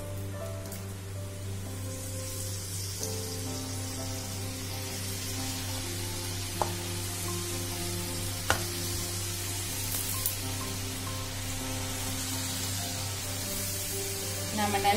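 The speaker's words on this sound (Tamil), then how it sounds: "இப்போ நம்ம டீப் ஃப்ரை பண்ண ஆரம்பிக்கலாம்." French fries deep frying in hot oil give a steady, dense sizzle and crackle that holds without letup, with a low hum beneath and an occasional sharper pop.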